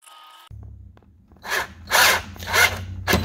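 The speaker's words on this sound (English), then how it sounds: "I have my drill adjusted to not over torque that" A cordless drill driving in a bolt on a car: a low motor hum starts, then several short whirring bursts of the drill turning as the bolt seats, close and fairly quiet.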